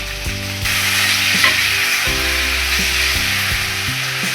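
Chopped tomatoes and curry leaves hit a hot pan for Karnataka-style tomato gojju curry, giving a steady, close sizzle that runs the whole time beneath soft background music.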